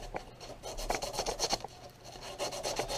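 A barrel patch is sanded with 150 grit sandpaper, producing quiet, rhythmic scratchy rubbing strokes in quick succession, close by and without talk.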